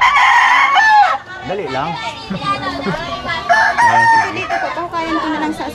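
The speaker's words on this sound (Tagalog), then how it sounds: "pasensya na, maingay yung manok." A rooster crows loudly and close by in repeated calls, with clucking mixed in, while people talk in Filipino around it.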